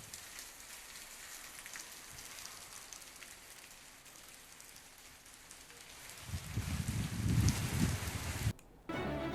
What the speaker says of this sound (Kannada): ದೃಶ್ಯಾವಳಿಗಳಲ್ಲಿ ಮಳೆಯ ಆರ್ಭಟ ಯಾವ ರೀತಿಯಾಗಿದೆ